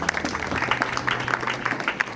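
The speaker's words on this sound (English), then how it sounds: "Let's clap for those who made him be what he is." Festival audience in Jinja, Uganda applauding, a dense patter of many hands clapping steadily and fairly close for about two seconds, with little else mixed in.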